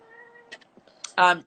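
A pet cat meows once, loud and close, at the end, after a brief stretch of quiet humming background and small clicks.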